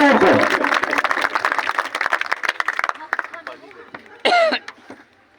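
Audience at an election corner meeting claps, a dense patter of many hands close by that thins into scattered claps, with a cough and some voices mixed in near the end.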